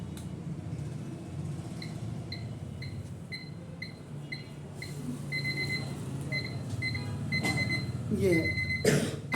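A watch alarm gives repeated high electronic beeps in short regular groups over a steady background hum, with a voice talking nearby and some louder handling noises near the end.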